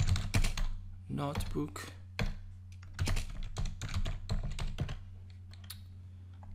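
Rapid clattering keystrokes on a computer keyboard come in bursts with short pauses, close and crisp, while a person speaks over a steady low hum.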